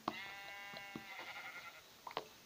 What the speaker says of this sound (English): Is that sheep? I need that. Yes, it is sheep.